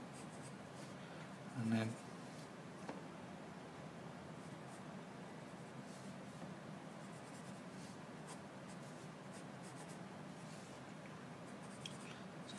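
A pencil scratches and strokes on paper while sketching a lamp, a faint continuous rasp of drawn lines under quiet narration.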